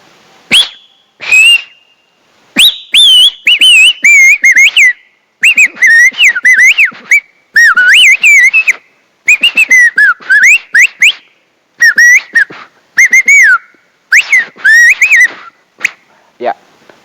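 A person whistles with bare fingers in the mouth to imitate a bird call, producing a series of loud, close, warbling high-pitched bursts in repeated phrases separated by short pauses.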